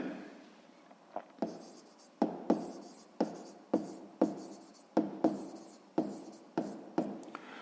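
Pen writing on paper while working a sixth-grade math exercise, a series of short, distinct scratchy strokes up close, coming in quick irregular bursts with brief pauses between words, with no talking.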